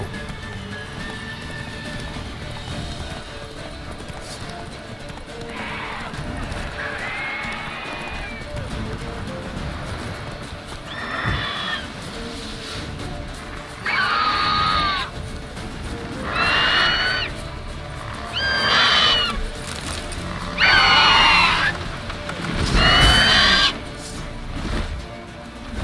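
Roach, a horse in the video game Witcher 3, gallops with steady hoofbeats under ambient noise and a voice, while bright neighs and whinnies grow louder and more frequent in repeated bursts toward the end.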